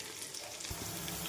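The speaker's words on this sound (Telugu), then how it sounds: "ఇలా ఉల్లిపాయలు దోరగా వచ్చేదాకా వేసుకోవాలి" Onions fry in hot oil for bagara rice, giving a dense, close, steady sizzle that grows a little louder partway through, with no voices.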